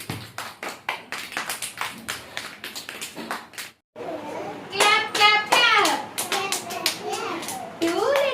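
Young children in a preschool class clap their hands in a quick, repeated rhythm, with a short pause before clapping resumes alongside children's voices chanting and talking.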